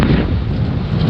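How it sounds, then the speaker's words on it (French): Gusty wind buffets the microphone outdoors on a van trip by the sea, a loud, steady low rumble that fills the whole short stretch with no voices. "Ah ça y est, il y a du vent là"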